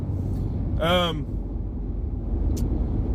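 Steady low road and engine rumble inside a moving car, continuous throughout, with a brief tonal voice-like sound near the start and a short high click later.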